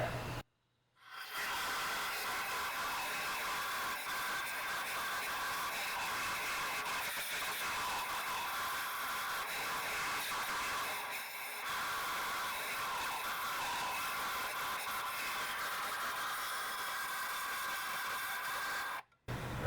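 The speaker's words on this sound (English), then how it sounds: "I'm just going to grab my compressed air here, and I'm just going to blow it out" Compressed air blasts steadily for about eighteen seconds, clearing sand and dirt from the spark plug well of a 2008 Jeep Liberty engine; a loud, close, broadband hiss with a brief dip near the middle, starting and stopping abruptly.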